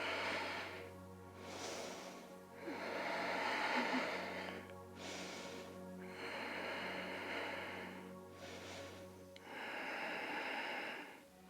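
Deep yogic breaths during a yoga pose, long slow inhales and exhales in a steady cycle of about four breaths, close and breathy over quiet background music.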